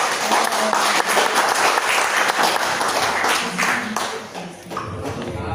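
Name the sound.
audience applause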